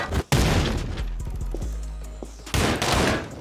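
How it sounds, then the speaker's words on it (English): Gunfire in the video game Anger Foot, aimed at a barrel: a sharp blast at the start, a dull booming rumble through the middle, and another loud burst near the end, with no talking. "He shot the barrel."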